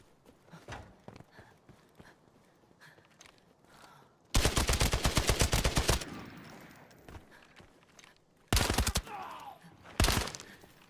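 Rapid automatic bursts from a Vector submachine gun in a shooter video game, three loud sustained volleys after quieter scattered shots and footsteps, the longest lasting nearly two seconds.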